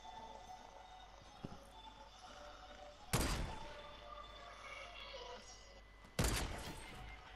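Two sharp sniper rifle shots ring out in a Fortnite match, spaced a few seconds apart. Each crack has a lingering echo over quiet game ambience.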